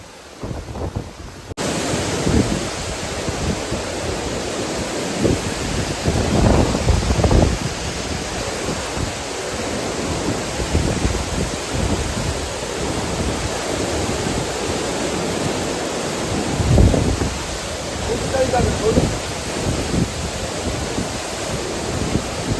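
Rough sea waves roar and surge during Cyclone Remal at night, mixed with strong wind buffeting the microphone in a dense, continuous wash of noise with periodic swells and gusts.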